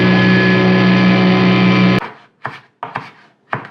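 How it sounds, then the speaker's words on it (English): Knife chopping Italian parsley on a cutting board, four quick separate thuds after a loud steady hum cuts off, close and clear. "I have just chopped up my Italian parsley"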